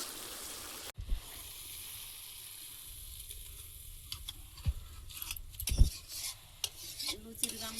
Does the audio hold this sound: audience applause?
no